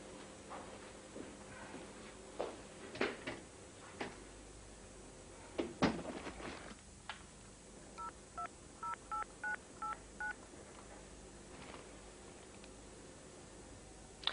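A telephone number is dialled with a quick run of short, evenly spaced keypad tones following a few clunks and handling knocks, with no one speaking.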